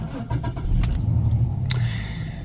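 A Jaguar limousine that once served as a funeral car starts up: a short crank with a few sharp clicks, then the engine catches and settles into a close, steady rumbling idle.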